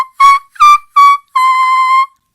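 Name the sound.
singer demonstrating whistle register vocal tone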